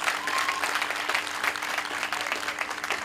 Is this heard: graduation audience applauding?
yes